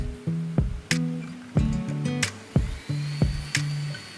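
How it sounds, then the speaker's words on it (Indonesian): An electric mixer works nastar cookie dough on low speed, giving a series of short, whirring motor bursts in an uneven rhythm, fairly close and alone. "Kita mixer dengan kecepatan rendah ya."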